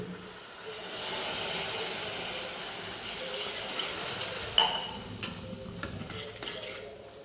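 A steady loud hiss of water sizzling in hot masala in a pan, with a few clinks of a utensil against the pot near the end.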